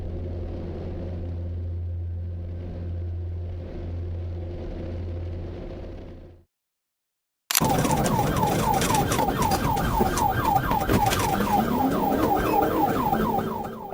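A low engine rumble drones steadily, cuts out briefly, then a loud wailing siren sweeps up and down continuously over traffic noise.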